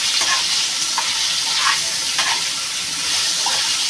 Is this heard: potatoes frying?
yes